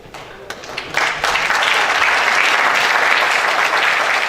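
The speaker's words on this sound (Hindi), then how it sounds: "जोरदार तालियों से आइए इस लम्हे में हम सब शामिल हैं" Steady, dense applause from a large audience fills the hall at a university convocation ceremony during a medal presentation, building after a few scattered claps and holding loud to the end.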